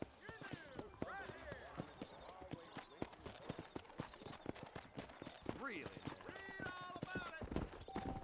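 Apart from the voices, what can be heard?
horse galloping hooves in video game Red Dead Redemption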